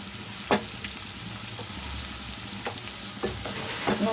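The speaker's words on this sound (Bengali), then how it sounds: "পেঁয়াজটা একটুখানি হালকা ভেজে নেব।" Chopped onions with a pinch of salt fry in a pan for Patiala chicken, giving a steady close sizzle broken by several sharp scraping stirs, with no talking.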